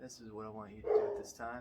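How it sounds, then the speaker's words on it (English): A dog barks once, sharp and close, in the middle of a man's speech, with his talking continuing around it. "Excuse my dog right now, mailman's coming."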